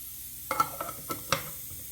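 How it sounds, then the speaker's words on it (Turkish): Rice grains are poured into an electric spice and coffee grinder, a few short close rattling pattering bursts over a quiet hum, with no talk. "Pirinç atıyorum arkadaşlar"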